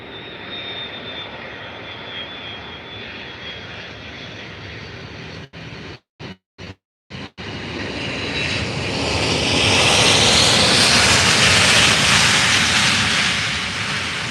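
An Aer Lingus airliner approaching Faro airport, its engine roar swelling from a distant whine to a loud, broad rush as it nears, with a few brief dropouts partway through.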